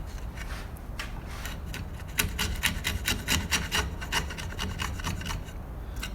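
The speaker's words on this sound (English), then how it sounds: "I can use my chisel" A chisel pares wood to clean up a rabbet joint, making a close, dry scraping rasp in quick repeated strokes that grow firmer and more rhythmic partway through, with no voices.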